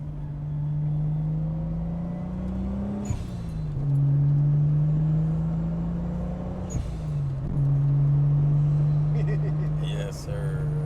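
An older custom car drives behind a house. Its engine hums loud and near, rising steadily in pitch and dropping at two or three gear shifts as it pulls away.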